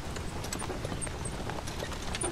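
Horses' hooves clip-clop steadily on a courtyard's hard ground in a busy audio-drama scene, a quick uneven patter of several animals at moderate distance, with no voices.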